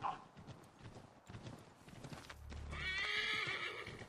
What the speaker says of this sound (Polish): na koniu o wiele szybciej będę się przemieszczał niż piechotą